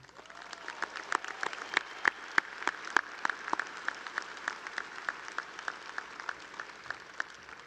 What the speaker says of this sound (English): So please join me in giving a round of applause.